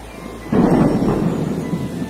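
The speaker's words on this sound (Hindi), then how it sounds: "अचानक एक दिन तेज बारिश होने लगती है" Heavy rain with a loud rumbling thunderclap that rolls in after a brief moment of steady rain and then slowly fades, close and full, with no voices.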